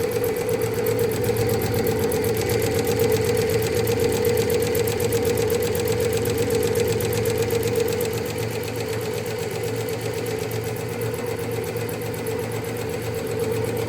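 An embroidery machine stitches a design, its needle chattering in a fast, even rhythm over a steady motor hum that keeps going throughout.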